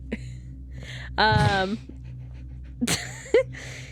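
A dog pants heavily right at the microphone, quick breathy rhythm throughout, broken by a couple of high whines, while people talk close by.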